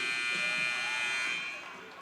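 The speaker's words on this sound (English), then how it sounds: "Buzzer goes off." A loud buzzer sounds at an NCAA women's volleyball match between Eastern and Endicott, a steady electronic tone held for about two seconds before fading slightly, with crowd and gym noise underneath.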